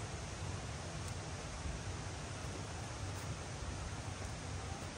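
A waterfall in a national park in New South Wales, Australia, gives a constant, even wash of falling water, broadband and unchanging, heard from some distance with nothing else over it.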